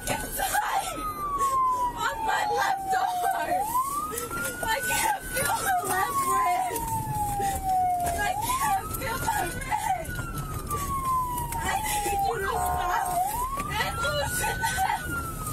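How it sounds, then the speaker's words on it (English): A police car siren wails in repeated rising and falling sweeps, moderately loud and continuous throughout, with indistinct voices murmuring beneath it. "This police officer has his sirens on."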